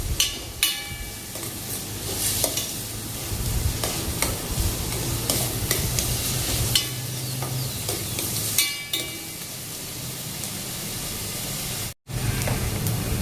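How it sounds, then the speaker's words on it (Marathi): Onions fry in hot oil toward browning, a continuous dense sizzle up close with frequent scraping stirs and one brief drop-out near the end; nobody speaks. "ओनियन बरो ब्रावन जावपाक जाय."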